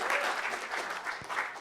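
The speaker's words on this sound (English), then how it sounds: "Let's give a Rat Pack a round of applause" An audience gives a round of applause to a team standing up at a business event, with steady dense clapping sustained throughout and fairly close.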